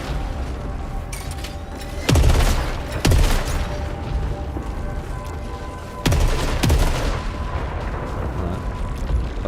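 Pistol fire in the video game Saros: a few sharp, loud shots spaced a second or so apart, two pairs of cracks ringing out over a steady droning game soundscape with faint tonal hum.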